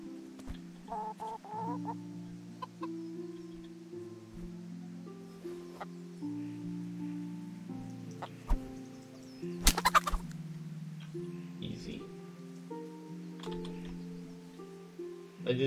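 Chickens cluck in the medieval role-playing video game Kingdom Come: Deliverance, several short calls scattered over steady sustained background tones, with one louder burst of activity near the middle.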